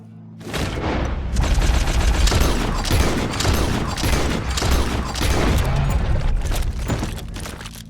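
A dense, loud volley of gunshots and booming rounds in the video game Red Dead Redemption 2, sustained rapid firing with heavy low thumps, no talk.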